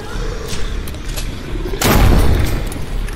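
A shotgun fires in the VR zombie shooter Propagation VR, with a heavy boom landing partway through amid ongoing game noise.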